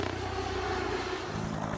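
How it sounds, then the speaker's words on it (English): A steady, smooth whirring drone of a Comanche stealth helicopter's five-blade rotor, with an even hum rather than a distinct chopping beat, continuous and fairly close. "it cuts down the normal chop, chop, chop sound from a helicopter into a more discreet whir"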